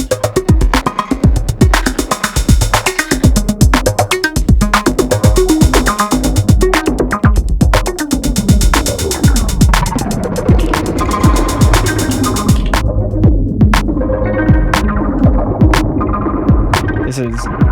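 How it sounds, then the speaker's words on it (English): A Noise Engineering Desmodus Versio reverb module runs fully wet while its tone knob is turned, giving a loud, dense throbbing, humming wash of pulsing synth tones that thins out near the end. "This is Desmodus Versio, fully wet. Just playing with that tone knob"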